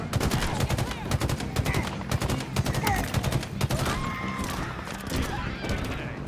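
Halo Infinite firefight with sustained rapid automatic gunfire, dense overlapping bursts of shots close and loud throughout, with faint battle chatter mixed underneath.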